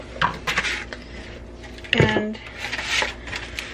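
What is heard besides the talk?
scraping dough off a pan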